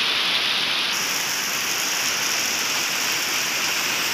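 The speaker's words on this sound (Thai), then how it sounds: "ตกหนักมากเลยทั้งฝนทั้งลมนะครับลมแรงนะครับฝนก็หนักนะครับ" Heavy evening rainstorm with strong wind in Ongkharak, Thailand: a loud, dense, continuous hiss of pouring rain that stays steady throughout.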